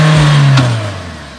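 Mahindra Thar engine revs hard while reversing uphill, a loud low drone that swells then drops in pitch and fades slightly as the throttle eases, with no talk over it.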